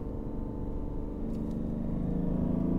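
Mazda CX-60 prototype's inline-six diesel engine pulling through a paddle-shift downshift, a steady low rumble with slightly rattly texture that swells gently in loudness, heard from inside the cabin with no talk.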